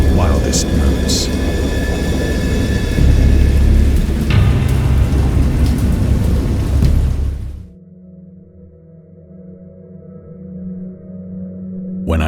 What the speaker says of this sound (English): I heard peals of thunder and other tones which nature utters only in her wildest moods